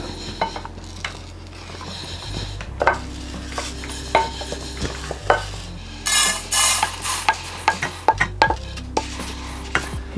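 Pulses dry-roasting in a pan are stirred with a utensil, giving repeated scraping strokes and clinks against the metal over a low background hum, close up, with a brief louder rattle midway.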